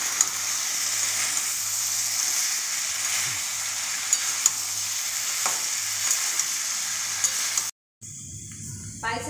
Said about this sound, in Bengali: আলু ভাজাটা আমি একবার নেড়ে নিই